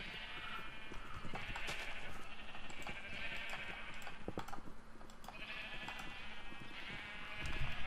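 Sheep bleat in a video game, several wavering calls spread across the stretch over a busy layer of game noise and clopping, moderately loud with no talk.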